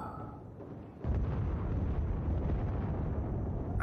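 Cruise missile explosions in Battlefield 4 set off a heavy, sustained rumbling blast that erupts after a brief quiet moment and keeps roaring loudly to the end.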